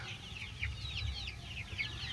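Several hens cluck and chatter nearby in a steady, overlapping stream, with a low hum underneath and no talking.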